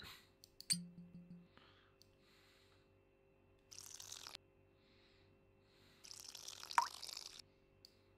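Watering seedlings in the survival cooking game Cooking Simulator Shelter, with two separate bursts of pouring water splashing for about a second each, along with small drips and clicks in a quiet background.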